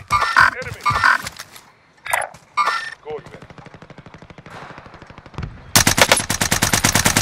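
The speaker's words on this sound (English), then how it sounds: "somebody else is shooting at me" Video game gunfire: scattered shots early on, then a sustained, loud, rapid machine-gun burst that runs to the end.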